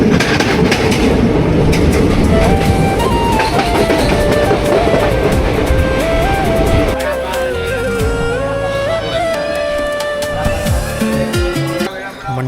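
Train pulling into Ratnagiri railway station on the Konkan route during the monsoon, with loud, close, rhythmic wheel clatter and rumble, then squealing brakes and a high hum as it slows.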